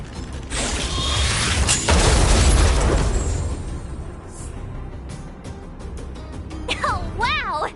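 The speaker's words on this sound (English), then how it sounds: "We wiped them all out in a single explosion!" A stealth bomb blast in the video game Honkai: Star Rail booms loudly for about three seconds in a dense burst, then fades into softer mechanical clicks and a few quick warbling electronic chirps near the end.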